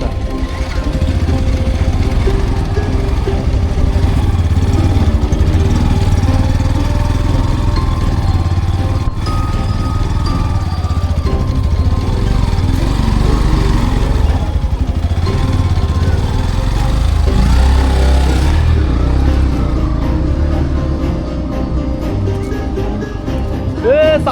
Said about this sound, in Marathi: रस्ता एवढा खराब आहे की जमतेम बाईक येते वरपर्यंत